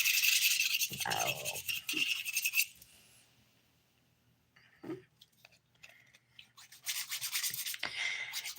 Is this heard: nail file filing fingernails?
yes